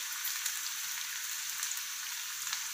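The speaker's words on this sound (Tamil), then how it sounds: "எல்லாத்தையும் போட்டு வதக்கிடும்" Cabbage, carrot and capsicum sauté with onion in a hot pan, giving a steady, close hiss of sizzling oil that runs unbroken and alone, with no voices.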